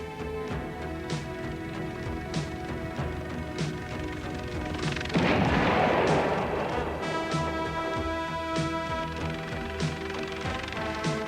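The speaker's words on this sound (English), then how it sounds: "An enemy mortar position half a mile distant has opened up on them." Enemy mortar fire on a military combat exercise: a loud burst of crashing impact noise midway, set against a constant engine-like drone with repeated sharp knocks before and after.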